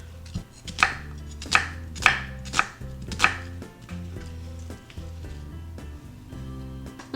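A knife chops a red onion on a cutting board in a home kitchen, with about half a dozen crisp, close chops landing in a loose rhythm over steady background music.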